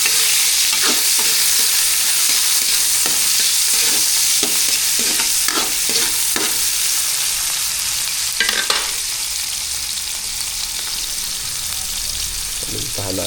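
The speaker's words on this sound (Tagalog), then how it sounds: "Abatis sibuyas." Onions sautéing in a hot pan for a mussel dish, a loud, steady sizzle with frequent stirring scrapes and clatters throughout, no talk over it.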